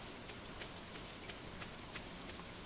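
Steady rainfall in the video game Stardew Valley, a soft, even patter with scattered droplet ticks that stays constant and fairly quiet throughout.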